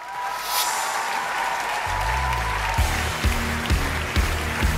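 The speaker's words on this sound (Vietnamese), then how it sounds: "Cho một tràng pháo tay mời thí sinh tiếp theo" Audience applause at a Vietnamese televised singing contest, steady clapping for about two seconds before deep musical tones and a rhythmic instrumental intro come in beneath it.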